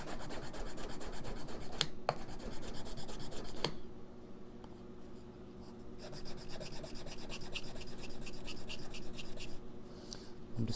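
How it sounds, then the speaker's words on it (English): Sandpaper rubs back and forth along a Larrivee guitar's binding in quick, close, rhythmic scratchy strokes, pausing briefly a couple of times. "I'm just sanding this binding."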